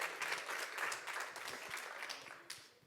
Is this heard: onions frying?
no